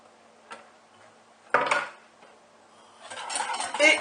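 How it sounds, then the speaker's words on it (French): Egg yolk, sugar and lemon mixture being stirred vigorously for a lemon tart filling, with short scraping and clinking strokes of a utensil against a bowl, then a longer burst of brisk stirring. "et on remue énergiquement"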